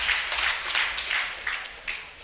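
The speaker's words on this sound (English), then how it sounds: "A round of applause." Applause from the audience at a live debate event: steady, dense clapping fills the room, with a few sharper claps standing out near the end.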